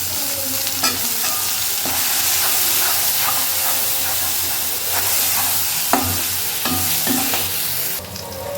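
Drumsticks are added to sautéed onions in a hot pan, giving a continuous loud sizzle and hiss with repeated sharp clatters of a spoon stirring against the pan.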